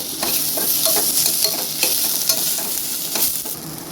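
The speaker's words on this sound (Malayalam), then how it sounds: "ഇതെല്ലാം കൂടി ഇട്ട് കൊടുക്കും. എന്നിട്ട് ഒന്നുകൂടെ നന്നായിട്ട് വഴറ്റാം" Green chillies and curry leaves sauté in a hot oiled pan for an egg curry, crackling with a steady close sizzle under sharp scrape and clink strokes of a stirring spoon.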